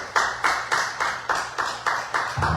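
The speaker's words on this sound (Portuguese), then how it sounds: "quem puder, as palmas para o Senhor Jesus" A church congregation claps in praise of Jesus, about nine evenly spaced claps in a steady rhythm, moderately faint, with no talking.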